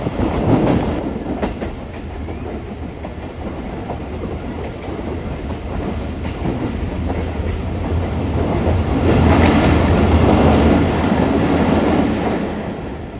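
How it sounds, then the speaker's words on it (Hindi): Passenger train on Pakistan's Main Line 2 between Larkana and Kotri, heard from on board as a loud continuous rumble with rhythmic clickety-clack of the wheels and occasional rattles. "ये ट्रेन हमारे इस वक्त बोपक रोड रेलवे स्टेशन पर रुक रही है आकर"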